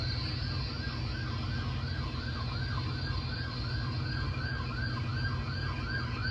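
A police car siren wails steadily through the whole stretch, rising and falling in a continuous cycle over a constant low traffic rumble, loud and close with no voices.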